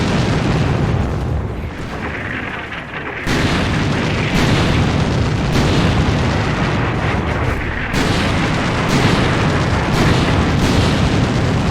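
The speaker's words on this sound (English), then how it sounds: "you can see like little mortars occasionally coming down and ours going off there" Mortar shells bursting on a World War II video game battlefield, heavy booming blasts that land every second or two in a loud, dense barrage, with no voices.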